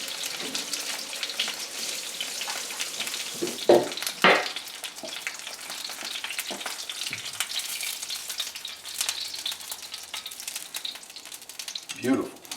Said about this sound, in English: rinse the cutting board.